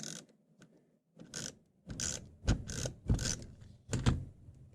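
A Snail adhesive tape runner is pressed along the back of a paper card, giving several short ratcheting, clicking bursts in an uneven rhythm, close and fairly quiet, with no talking.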